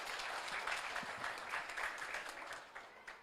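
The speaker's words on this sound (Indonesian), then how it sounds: "Langsung saja kita sambut dengan tepuk tangan yang meriah untuk Bapak Iwan Beni Purwododo STP." An audience claps steadily to welcome a speaker at a product launch event, a fairly faint, continuous patter of many hands lasting throughout.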